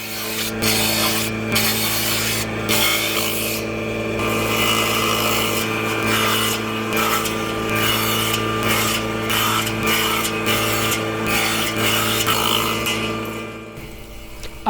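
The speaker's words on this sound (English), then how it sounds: "Then I cut the tenons in the strips." Continuous loud rasping and grinding as tenons are cut into wooden strips with a tool that has a steady mechanical hum, going on without pause and close to the listener.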